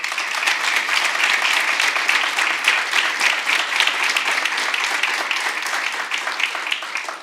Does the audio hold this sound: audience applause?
yes